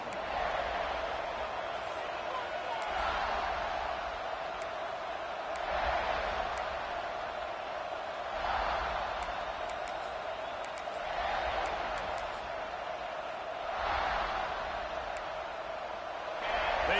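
A stadium crowd in College Football 26, at a Florida versus South Carolina game, roars in steady waves that swell and fade every few seconds, a broad, distant rumble filling the whole stretch.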